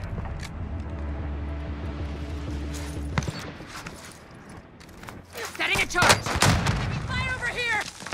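Gunfire and explosive blasts in the Call of Duty: Modern Warfare video game, with sharp shots scattered over a low steady rumble and a voice talking partway through.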